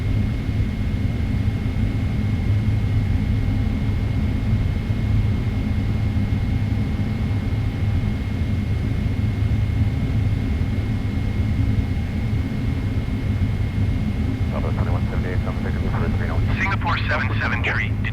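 A Boeing 777-300ER takes off from a Singapore runway on a cloudy day, its jet engines a loud, steady roar throughout with a low rumbling drone, while radio chatter comes in briefly near the end.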